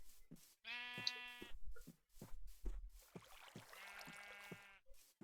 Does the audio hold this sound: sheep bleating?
yes